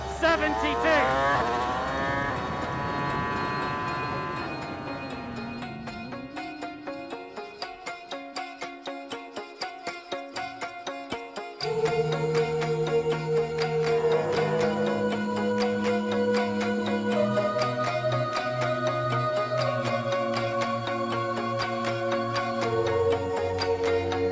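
A Ferrari car drives around the Fiorano test track, its high-revving engine rising and falling through gear changes, dropping to a low idle pulse midway before revving loudly again.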